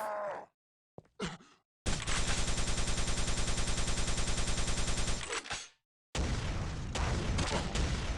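Rapid plasma gun fire in a fast first-person arena shooter during plasma climbing and strafe jumping, a loud burst of evenly spaced shots for a few seconds, broken by short gaps and followed by another dense stretch of firing.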